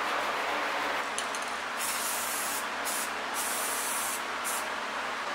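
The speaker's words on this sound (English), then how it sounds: "kind of cleaned up some spots with some spray paint" A can of white spray paint hisses in a steady, continuous burst close by as it is sprayed onto a homemade go-kart, with no talking.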